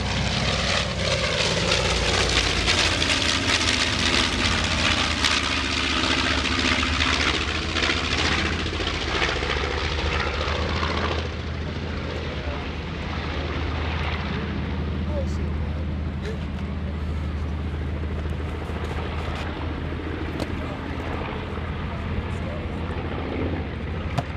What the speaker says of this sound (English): Jim Pusateri bringing the TBM Avenger